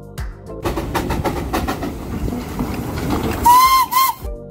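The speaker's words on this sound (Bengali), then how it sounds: "ছোট্ট খেলনা রেলগাড়িটা কুঝিকঝিক করে হুইসেল বাজিয়ে নানা রঙের ফুলের বাগানের মধ্যে দিয়ে চক্রাকারে ঘুরতে ঘুরতে এগিয়ে চলে" The steam whistle of the Darjeeling toy train sounds near the end over a busy rumble of the moving train and station bustle, one short shrill blast.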